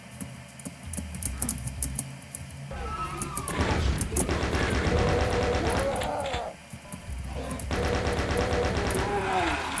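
Chaingun fire in a Doom map, loud rapid bursts of gunfire in two long stretches mixed with crashing game effects, and a voice speaking over parts of it.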